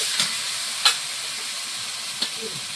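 Ground spices with cumin, tomato and salt fry in a pan for a duck curry, making a soft, steady sizzle broken by three sharp scrapes of stirring.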